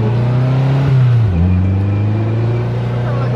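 A three-wheeled car engine hums steadily, rising then dropping in pitch as it shifts like a motorcycle, loud and close, with a low rumbling drone throughout.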